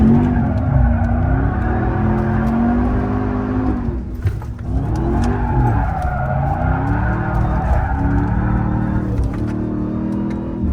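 A 700hp drift truck in a racing video game, its engine droning and revving continuously with shifting pitch while tires squeal through long slides on a European mountain road, loud and unbroken throughout.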